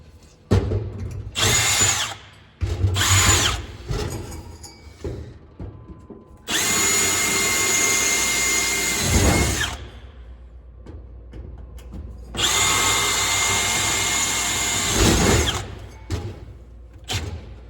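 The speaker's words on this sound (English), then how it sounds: "I'll drill them all." A power drill boring center-punched holes in a steel battery box for a junkyard Jeep, in several bursts: two short ones, then two long sustained whines, each several seconds, loud and close with pauses between.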